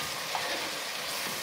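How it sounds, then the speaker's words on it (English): Diced salt codfish frying in a pan produces a soft, even sizzle that holds steady throughout, with no talking. "So I'm frying that down."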